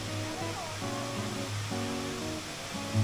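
Khlong Lan waterfall in Mae Wong National Park roars as a steady, loud, broadband wash of falling water, with voices talking over it.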